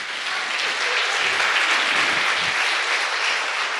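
Church congregation applauding during a worship service, a dense, steady wash of clapping from a large crowd that carries evenly through the whole stretch with no voices on top.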